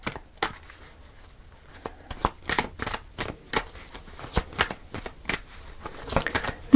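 Tarot cards being shuffled on a table, a run of crisp riffling and slapping bursts at an irregular rhythm, close and fairly loud, with no talking.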